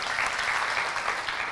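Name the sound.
congregation applause in church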